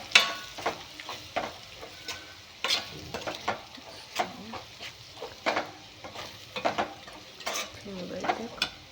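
Chopped capsicum fries in a hot pan and is stirred steadily for a minute or two, a soft continuous sizzle broken by repeated scraping strokes of the spoon against the pan, close and moderately loud, with no talking.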